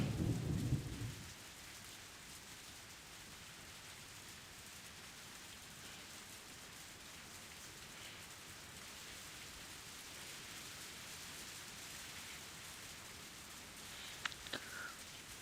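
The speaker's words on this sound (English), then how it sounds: "The sound of heavy rain fades into the distance." Steady heavy rain hisses throughout, opening with a low rumble of thunder that fades into the downpour.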